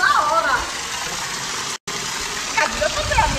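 A waterfall beside a swimming pool gives off a steady, broad rush of falling water, loud and close, briefly cut off for an instant midway.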